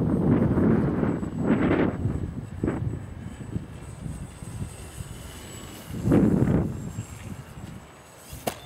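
Wind gusts across an RC plane flying field, a broad blustery roar of microphone buffeting that swells and eases in waves, loudest near the start and again midway, with no voices.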